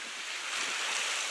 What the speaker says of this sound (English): But you can see the waves breaking.